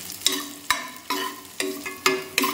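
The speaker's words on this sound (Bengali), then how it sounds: "এই যে বেরেস্তার মতো বাঁধাকপিগুলো ভেজে নিচ্ছি" Shredded cabbage fries in a pan for vegetable biryani, with five or six loud, close scraping stirs at an even rhythm over a steady sizzle and no voices.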